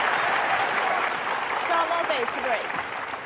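A snooker crowd applauds Shaun Murphy's century break in the Shanghai Masters 2024 final, steady sustained clapping filling the hall from start to finish, with faint voices mixed in.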